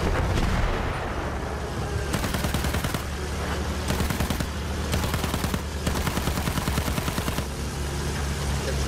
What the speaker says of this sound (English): I'll drop bomb at point C.